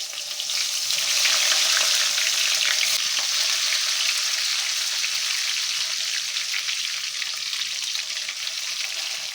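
Eggplant stuffed with masala hits hot oil that already holds mustard seeds and curry leaves, giving a loud, steady, dense sizzle that runs unbroken throughout with no voices.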